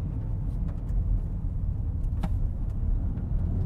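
A 2023 Land Rover Defender 130 accelerates in sport mode, heard from inside the cabin as a steady low engine drone and road rumble with a few faint clicks. No one speaks.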